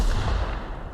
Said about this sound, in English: That was what's called an explosion